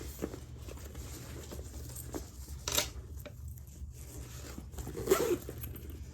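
A zipper is drawn closed along the top of a freshly sewn zipper pocket, giving two short rasping pulls, one at about three seconds and one near five seconds, quiet and close, over a faint low hum.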